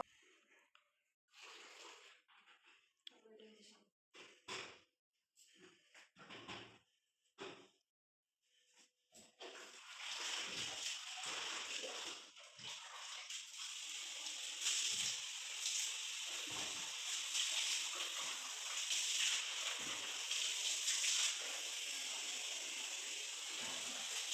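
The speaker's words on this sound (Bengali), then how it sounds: "এবার বাথরুমটাকে ধুয়ে নেব" Water running and splashing steadily while a bathroom is washed down, a broad continuous wash of spray that starts partway through after scattered knocks and faint shuffling sounds.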